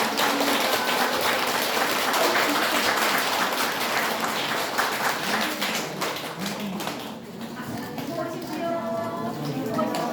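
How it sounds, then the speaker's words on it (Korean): At a Buddhist temple's 10th-anniversary special dharma service, the audience applauds a monk's sermon with a broad, steady round of clapping, easing off briefly before swelling again under a voice near the end. "감사한 마음을 담아 큰 박수 부탁드립니다"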